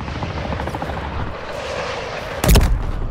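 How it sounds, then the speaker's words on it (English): A cruise missile strike in Call of Duty lands as a sudden loud, close blast near the end, set against a steady helicopter-like rotor drone and distant gunfire. "Friendly cruise missile deployed"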